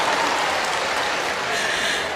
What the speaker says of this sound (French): Applaudissez pour mon oncle.